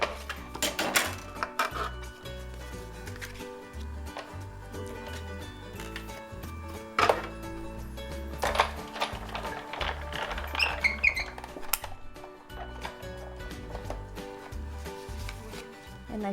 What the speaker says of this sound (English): Now I'm going to run it through my die cutting one more time.